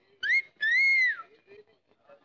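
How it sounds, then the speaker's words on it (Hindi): A man's sharp two-note wolf whistle aimed at a woman in a Hindi action film scene: a short rising chirp, then a longer sustained tone, loud and close, followed by faint background murmur. "पारो को सीटी मारता है साले"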